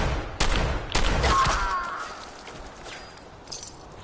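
Gunfire in the video game Fallout 4: two or three sharp shots ring out in quick succession, each trailing into a fading echo, followed by quieter game ambience.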